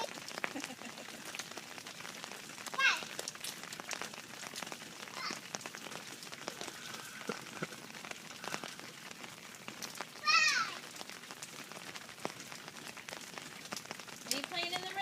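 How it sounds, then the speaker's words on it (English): Rain falling during a tropical storm, a soft, continuous patter on surfaces with scattered drop ticks. A child's and an adult's voices sound intermittently over it, with a couple of louder splashy bursts. "Are you playing in the rain?"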